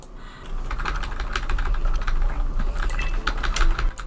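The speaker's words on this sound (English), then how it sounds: "you can definitely hear my keyboard getting clicked very fast" A computer keyboard clatters with very fast, dense key clicks, continuous and close, during the start of a horse race in Star Stable Online.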